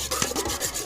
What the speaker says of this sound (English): now we are going to whisk our eggs with our tongs